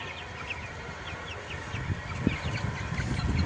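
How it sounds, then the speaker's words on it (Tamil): Soft chirps and peeps from incubator-hatched native chicken chicks scatter over a low background murmur, faint and fairly close. "இன்குபேட்டரில் பொறிச்ச நாட்டுக்கோழி குஞ்சுங்க"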